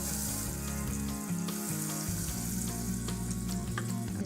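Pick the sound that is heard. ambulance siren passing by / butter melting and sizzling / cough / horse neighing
butter melting and sizzling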